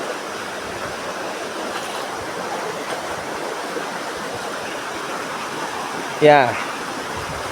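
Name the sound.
river flowing through a narrow gap between cliffs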